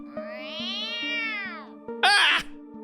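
A video-game cat lets out a loud, harsh shriek near the end, following a long, sustained harmonic meow-like cry, all over a steady low background hum in a dark corridor scene.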